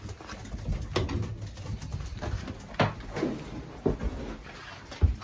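Racing pigeons coo in a loft, soft repeated low calls close by, mixed with occasional knocks and shuffling sounds.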